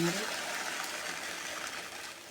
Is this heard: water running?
yes